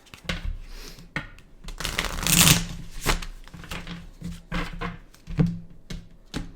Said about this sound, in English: Sorry, one more shuffle.